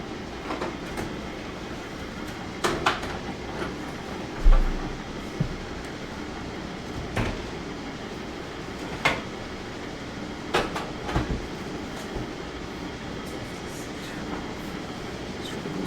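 A heavy freight train of six loaded cars, about 301 tons, rolls along in the Railroader game, a steady low rumble broken by scattered clanks and clicks from the couplings and wheels.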